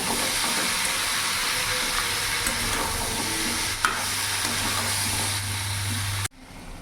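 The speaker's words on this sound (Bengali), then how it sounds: "বাটা এবার মিডিয়াম আঁচে ভালো করে কষিয়ে নেব" Ground mustard-poppy paste with green chili sautéing over medium heat in a pan, a continuous close sizzle and hiss with a low rumble beneath and a few scraping stirs, cutting off abruptly near the end.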